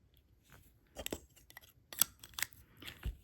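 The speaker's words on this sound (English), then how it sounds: "trim my thread." Scissors trimming beading thread, a few small crisp snips close by, quiet and spaced out, with no talk.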